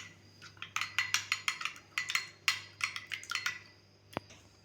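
A spoon stirring a milk and cane sugar mixture, clinking against the side of a bowl in a quick rhythmic series of light taps, close and fairly soft, followed by a single sharper knock.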